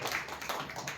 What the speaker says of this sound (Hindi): क्यों ना हम तालियों से परमेश्वर का धन्यवाद दें